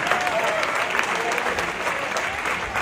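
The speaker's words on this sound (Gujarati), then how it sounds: "એકવાર આ બધા કલાકાર મિત્રોને એકવાર જોરદાર આપણે તાળીઓથી વધાવીએ" An audience claps and cheers at a Jain devotional concert, a dense, steady wash of applause from a large crowd that fills the whole space.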